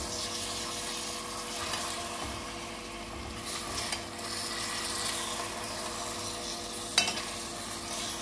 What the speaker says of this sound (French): Mélangez délicatement pour enlever toutes les tranches de pommes de caramel.